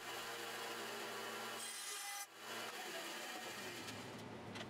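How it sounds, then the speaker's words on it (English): A bandsaw cuts through wooden lounge chair boards to trim off the corners, a steady close whirring rasp with a brief dip as one cut finishes before the blade runs on. "took them over to the bandsaw to nip off the majority of"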